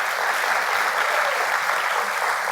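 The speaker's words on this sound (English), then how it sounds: "let's give those judges a round of applause" An awards ceremony audience claps for the judges, a dense, steady wash of applause filling the hall, loud and continuous, with no voices standing out.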